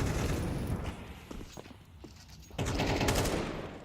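Pistol shots crack in a Counter-Strike match, a short burst of several quick close shots with some thuds before louder shots near the end.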